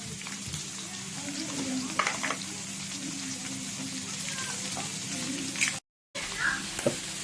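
Garlic and onions sautéing for Filipino pork dinuguan, a soft continuous sizzle with occasional utensil taps and a brief dropout, faint voices in the background.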